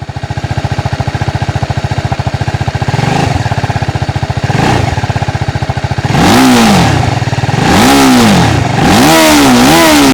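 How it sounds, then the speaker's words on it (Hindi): A TVS Apache RTR 310 sport motorcycle idles with a rumbling exhaust, then revs hard three times, each rise and fall of the engine loud and close. "एग्जॉस्ट नोट में आपको सुना देता हूँ, उसकी जो साउंड है"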